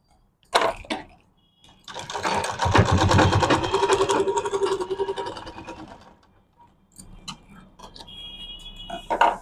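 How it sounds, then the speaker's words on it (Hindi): A sewing machine stitches seams on a medium-sized handmade bag, its rapid mechanical whirring running steadily for several seconds before stopping, then resuming more quietly after a pause. "यहाँ से भी हम सिलाई लगा लेते हैं।"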